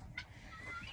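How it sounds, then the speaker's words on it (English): A guinea fowl calls on a farm in a short, raspy burst near the start, followed by a thin, wavering cry over faint background noise, with no speech. "Guinea goose."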